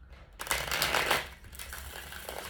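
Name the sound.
shuffling tarot cards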